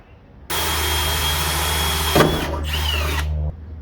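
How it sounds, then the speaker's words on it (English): Power drill boring a bolt hole for a fiberglass flare on a Toyota FJ40/FJ45 Land Cruiser, a loud close motor whine for about three seconds, with a brief bite and pitch change as the bit cuts through. "Drill."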